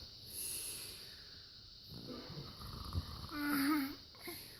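A person imitates snoring with their voice, producing a rough snorting, breathy rasp that rises into a drawn-out nasal snore near the end, heard up close in a quiet room.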